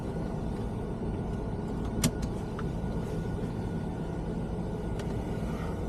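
Car driving along, a steady low road and engine rumble inside the cabin, with a few faint clicks and rattles over the hum.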